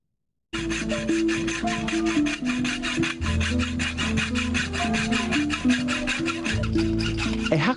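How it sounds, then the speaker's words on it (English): A hacksaw blade cuts through a metal chain at a prayer camp, a steady rasping stroke after stroke, close and loud with a ringing metallic tone. "A hacksaw blade cuts through a chain that held the legs of over 30 people here"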